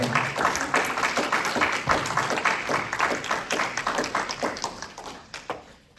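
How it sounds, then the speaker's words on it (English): Audience applause for two people at an Armenian literary book event, dense and steady clapping from a room of listeners that thins into scattered claps toward the end. "Well, let's give a round of applause to Deanna and Lisa."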